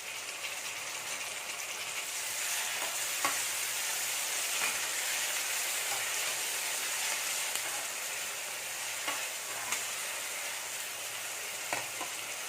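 Onions and tomatoes sautéing in a pan for kofta gravy, a steady soft sizzle and hiss with occasional faint pops and crackles, no voices.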